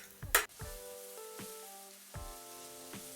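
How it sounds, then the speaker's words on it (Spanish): Chopped garlic and a dried cayenne chili hit hot oil already infused with fenugreek seeds, giving a close, steady sizzle with a few sharp crackles early on and clattering stirs at intervals. "agregamos ajo muy bien picado y una cayena"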